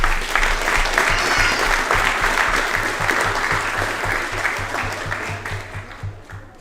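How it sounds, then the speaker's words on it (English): A signing-day audience applauds parents with sustained, dense clapping from a crowd that carries on for several seconds and slowly tapers. "Let's give our parents a big round of applause."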